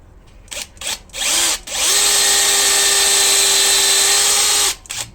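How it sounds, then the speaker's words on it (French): Small drill bit boring into a car wheel's anti-theft lock nut: a few short bursts, then a loud, steady high-pitched whine held for about three seconds before it stops. "On commence avec un petit diamètre. Préparer le perçage."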